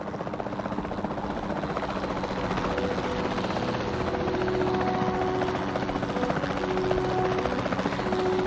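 A helicopter in the video game Jurassic World Evolution flies on a dinosaur capture mission, its rotor throbbing as a dense, continuous drone that stays loud and steady throughout.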